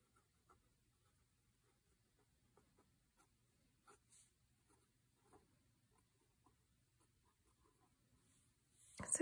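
A Pilot Custom 823 fountain pen with a flex FA nib scratches faintly across a Rhodia dot pad in a quiet room, with soft, sparse strokes and light taps, and a louder rustle at the very end.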